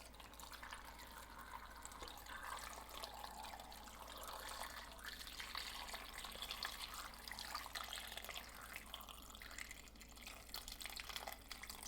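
Cold water poured from a tap into a pot holding chicken, mushrooms and tomatoes, a steady, soft, close splashing rush that runs without a break.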